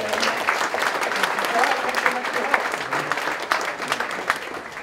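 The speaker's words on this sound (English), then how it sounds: "So a big round of applause." A crowd applauds steadily for about five seconds at a keynote talk, a dense wash of clapping at fairly loud, even level throughout.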